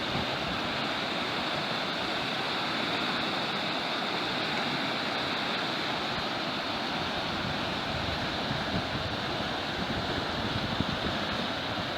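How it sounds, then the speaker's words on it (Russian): A mountain stream near a river and road flows in a continuous loud, broadband rush, steady and unbroken from start to end with no voices. "Горный поток"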